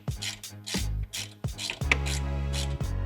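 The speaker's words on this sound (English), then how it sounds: "we are loosening the top two Allens for now" A 3/16 Allen key loosening the top bolts of a HOGWORKZ engine guard on a 2014-or-later Harley-Davidson Touring motorcycle: several close metallic ratcheting, scraping bursts with short pauses between them and no voices.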